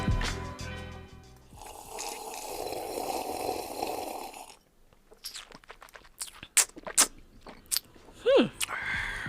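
Wine slurped in during a tasting: a loud, airy sucking rush that lasts a few seconds, then gives way to sharp lip smacks and clicks close to the mouth.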